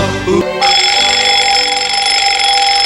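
An alarm clock in a Strawberry Shortcake cartoon rings loudly after a brief lead-in, a continuous shrill electronic tone sounding alone until the end.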